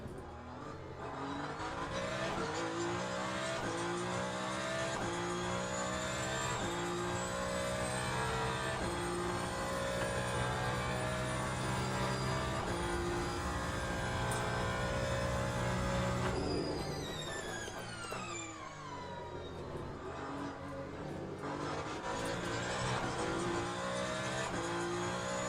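A hypercar engine in Le Mans Ultimate howls around Monza, climbing through the revs with sharp upshifts and dropping in pitch on a downshift midway before rising again, loud and continuous.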